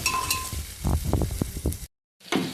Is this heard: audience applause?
no